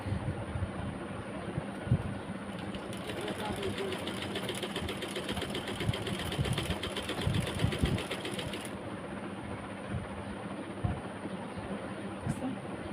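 A sewing machine attaching lace around the neckline of a garment runs in a fast, steady whirring stretch of several seconds, faint and quiet, with brief pauses before and after amid low room noise and occasional voices.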